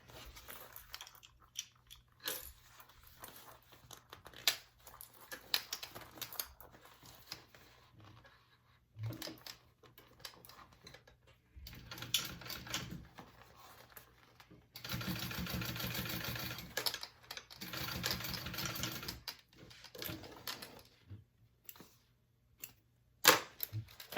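A sewing machine top stitches a Clover convertible bag in intermittent runs, with quiet stretches and clicks between short bursts of stitching and a longer, steadier run in the middle, all fairly faint and close.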